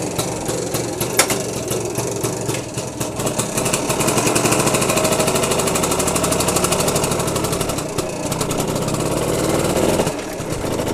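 A BSA Bantam 175 motorcycle engine on the ride, a loud, steady, close two-stroke buzz with rapid rhythmic firing that rises and falls slightly as the revs change.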